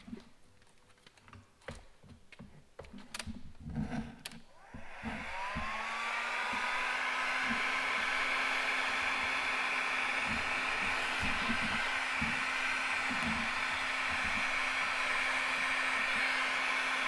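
A heat gun warming Hunter Green vinyl wrap on the side skirt of a Lexus RC F comes on after several seconds of clicks and handling noises, then blows with a steady, loud, close hum to the end.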